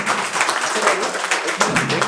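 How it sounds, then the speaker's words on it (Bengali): Students clapping in a coaching classroom, a brief ragged burst of applause heard close, with voices mixed in. "একটা হাততালি দাও"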